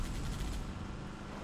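A turret fires in Halo Reach as a dense, loud, continuous burst of gunfire that fills the whole moment with no talking.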